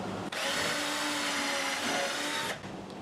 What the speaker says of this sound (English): just use this gun and I just pick some spots to drill the holes with